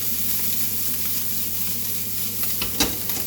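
Bacon browning in a pan for a pea and bacon risotto, a close continuous crackling sizzle with a low hum beneath and a brief clatter of utensils toward the end.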